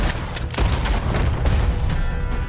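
Heavy gunfire in Red Dead Redemption 2: loud, dense booming shots fire in rapid succession with sharp cracks near 0.5 and 1.5 seconds, over a rumbling battle din with no pause.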